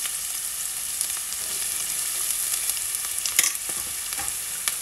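Chopped small onions with chillies sauté in a pan for a mutton liver pepper masala, giving a constant hissing sizzle broken by scattered clicks and scrapes of stirring, close and fairly quiet, with no voices.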